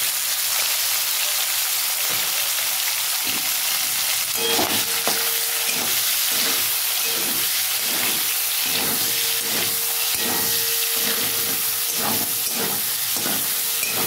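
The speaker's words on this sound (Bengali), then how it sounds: "বেশি ভাজবো না বন্ধুরা চিংড়িটা" Shrimp rubbed with salt and turmeric fry in a pan with oil for an okra-and-shrimp sour curry, making a steady, even sizzle and hiss throughout with faint clinks of a spatula.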